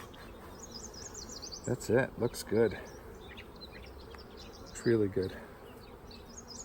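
Honey bees buzz continuously around an open beehive during a spring inspection, forming a steady insect drone in the background while a person makes a few short remarks over it.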